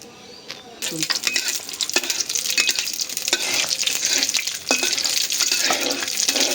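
Chilies fry in hot oil in a village kitchen. After a quiet start, a loud, close, continuous hiss and crackle rises, with stirring scrapes recurring throughout.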